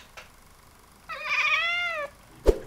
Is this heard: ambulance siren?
no